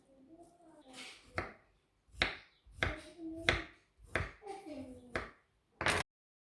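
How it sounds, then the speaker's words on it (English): A knife dices fresh aloe vera gel on a cutting board, giving about eight sharp, close knocks at irregular intervals, with softer squelchy sounds between the cuts. "I'm all done dicing the gel"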